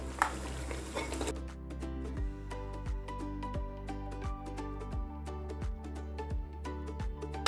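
Fried onions being stirred into a chicken biryani masala with yogurt in a pot, heard as a soft sizzle and scrape at first, then a run of regular metallic spoon taps and clinks against the pan.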